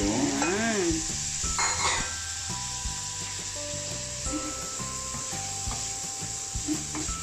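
Liver and carrots fry and sizzle in a pan for pancit while a utensil stirs and scrapes through them, a steady close crackle with a brief voice near the start and faint tonal sounds in the background.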